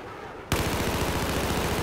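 Sustained rapid gunfire in the video game Battlefield 4, a sudden loud burst that holds as a dense, continuous volley with a steady repeating rhythm, close and loud with no talk.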